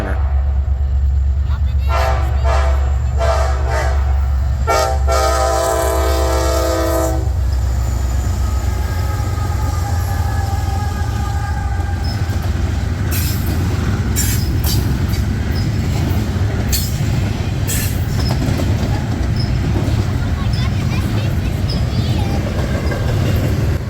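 Freight train 265 rolling past with trash containers up front, a loud, steady rumble of wagons and wheels with sharp squeals and a brief horn-like tone early on, and a voice talking over it.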